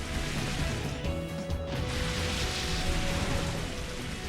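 Steady rain hisses throughout from the Rain Dance move in a Pokémon battle, a dense patter with a faint tonal hum and a few soft thuds mixed in.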